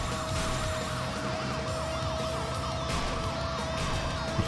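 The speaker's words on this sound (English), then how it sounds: "Ambulance just driving through everyone." An ambulance siren wails continuously in a PlayStation 2 racing video game, its rising and falling tone cycling rapidly over engine and crash noise as it drives through traffic on the track.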